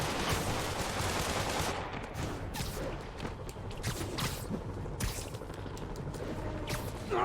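Sniper and gunfire sounds from the video game Marvel's Spider-Man on PS4 form a dense, continuous noisy barrage with repeated sharp shot impacts, loud and close throughout.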